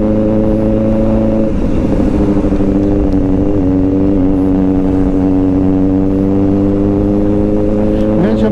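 Kawasaki ZX-4RR motorcycle riding in the rain, its engine droning steadily and loudly up close with a shifting rev note and wind rush, no talk over it.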